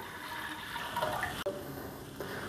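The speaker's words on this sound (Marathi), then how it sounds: "आता आपण कुकर ठेवलं आहे आणि त्यात एक अर्धा लिटर पाणी टाकून घेतो." Half a litre of water poured into a pressure cooker holding peas, a steady close splashing rush that runs on without a break and dips for a moment near the middle.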